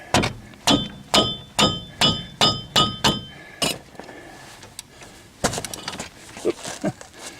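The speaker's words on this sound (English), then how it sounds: "Once you get the top caliper bolt loose, mounting bracket bolt, then take the bottom one loose and out." Socket wrench ratcheting on brake caliper bolts while servicing the right front wheel bearing hub of a 2006 Chevy HHR, a run of about nine sharp evenly spaced metallic clicks, then scattered clanks and knocks close by.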